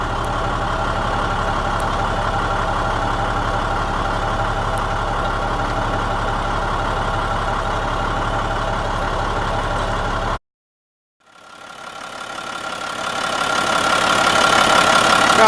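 A 2004 International 7500 truck engine idles steadily with a smooth, even rumble for about ten seconds, then cuts to silence before an outdoor background noise returns and swells.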